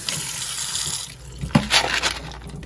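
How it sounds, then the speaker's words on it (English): Dried beans are rinsed under running tap water in a bowl, a steady close faucet stream that softens, then bursts into brighter splashing and swirling as the beans are stirred under the flow. "I'm going to rinse over those again"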